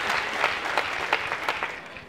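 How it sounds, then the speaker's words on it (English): A comedy club audience at an Easter stand-up show claps in a brief, moderately loud burst, the individual claps sharp and uneven before the applause thins out. "Give yourselves a round of applause for being here tonight."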